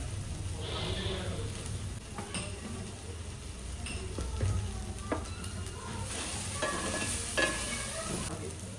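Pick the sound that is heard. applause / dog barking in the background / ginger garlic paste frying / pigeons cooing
ginger garlic paste frying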